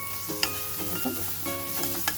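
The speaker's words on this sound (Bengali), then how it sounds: "পেঁয়াজ ভাজা করে নেবো একটু হালকা লাল করে নিয়ে" Onions frying in a pan for a rui fish curry, a steady soft sizzle with a few light stirring clinks and scrapes, close and alone without talk.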